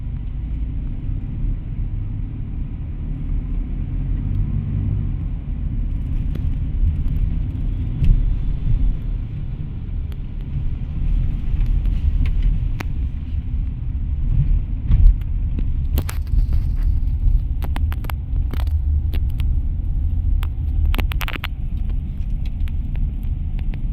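Traffic on a congested Manila road, a steady low rumble of engines from nearby cars and slow-moving vehicles, with scattered brief clicks and rattles later on, no talking.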